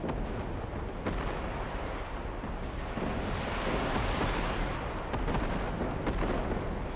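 Msta self-propelled artillery fire in the game Broken Arrow rumbles continuously, heavy booms blending into a dense, steady roar of distant bombardment.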